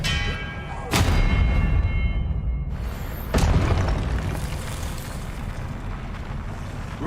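Two heavy booming blasts from the Expelliarmus spell in the video game Hogwarts Legacy, a couple of seconds apart, each ringing out over a continuous rumbling game soundscape.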